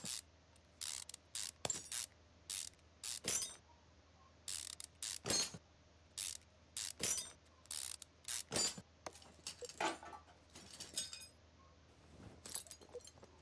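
Screws being removed while repairing a brake system in the Car Mechanic Simulator video game: a long run of quick mechanical clicks and ratcheting bursts, close and clean over a faint low hum.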